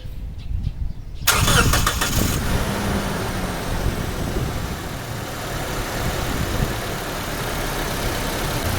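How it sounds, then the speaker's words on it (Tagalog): A car engine cranks briefly and starts after a coolant flush and refill, then settles into a steady idle that continues for several seconds, fairly close. "papandari ko na yung makina."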